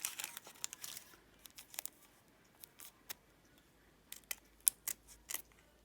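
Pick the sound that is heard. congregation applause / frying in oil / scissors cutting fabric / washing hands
scissors cutting fabric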